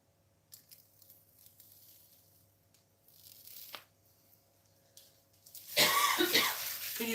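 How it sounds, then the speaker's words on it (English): A woman coughs loudly in a sudden burst near the end, after quiet crinkling and tearing as the plastic peel comes off the front of a PC case. "Can you stop bloody coughing"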